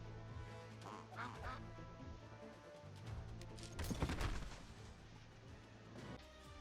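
A cartoonish duck quack sounds from a quack fruit in the Marvel Puzzle Quest video game, layered over busy game music and booming battle effects, with a louder burst near the middle.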